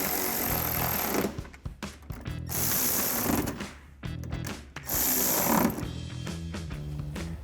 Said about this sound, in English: And then we'll grab our 8mm socket to tighten these down.